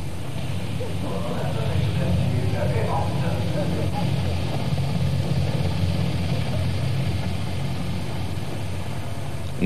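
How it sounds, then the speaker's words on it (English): Antonov An-72 short-takeoff transport aircraft flying at the 1984 Farnborough air show, a steady loud engine roar and rumble, while someone talks over it throughout. "Russia's Antonov 72, a short takeoff transport, also proved strong on agility rather than beauty."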